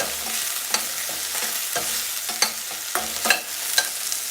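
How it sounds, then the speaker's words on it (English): Jamaican-style curry chickpeas sautéed and stirred in a hot pot, with a steady sizzle and a series of sharp scraping strokes at an irregular pace, close and prominent with no voices. "And let's stir this. So I'll just saute."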